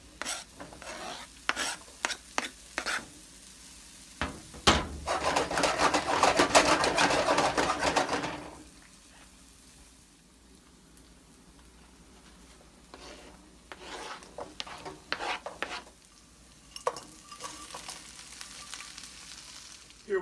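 Porgy fish frying in a pan, a loud sizzling burst lasting several seconds amid intermittent scraping and clattering of utensils, then fading to quieter crackle with occasional knocks.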